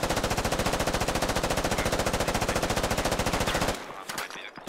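Sustained automatic machine gun fire in the Squad military shooter, a loud rapid unbroken burst lasting several seconds before cutting off into quieter scattered shots and ambient noise.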